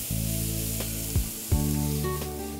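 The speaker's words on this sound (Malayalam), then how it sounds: "മിക്സ് നന്നായിട്ട് വഴന്നു വരുന്നില്ലേ മാം?" A tomato and onion mixture sautés in a pan with a soft, steady sizzle. A couple of sharp utensil knocks sound partway through, and a low sustained hum runs underneath.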